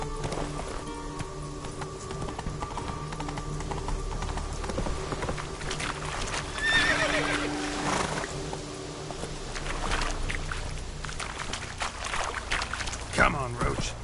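Roach the horse galloping in The Witcher 3, with steady hoofbeats and background clatter running throughout, while someone talks over it.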